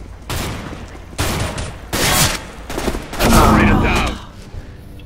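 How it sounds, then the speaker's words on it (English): Gunfire in the video game CS:GO comes as several loud bursts of rapid shots separated by brief gaps, with a voice shouting during the firing. "Who's shooting me?"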